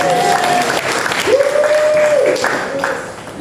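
A church congregation claps together in a dense, lively burst, with a voice or sustained tones riding over the clapping before it gradually thins out.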